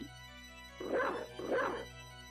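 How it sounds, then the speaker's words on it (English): Two short barks from the dog transformation in Castlevania Symphony of the Night randomizer, evenly spaced in-game dog yips over a steady low game hum, clear and moderately loud. "Chalice's dog transformation, man."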